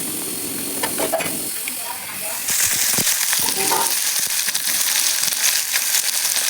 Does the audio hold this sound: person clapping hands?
no